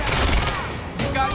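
A rapid burst of gunfire in the action video game Quantum Break rattles loud and close, with the shots packed into one short fusillade.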